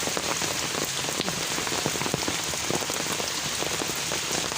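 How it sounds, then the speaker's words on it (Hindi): Steady rain patters on flowers outdoors, a dense, even hiss of drops with scattered sharper ticks throughout, moderately close and continuous with no voices. "इनके ऊपर भी बारिश है"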